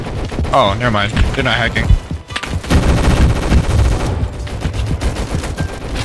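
Gunfire in the Roblox war game Rolling Thunder crackles steadily throughout as dense, continuous bursts, with someone talking over the shooting near the start.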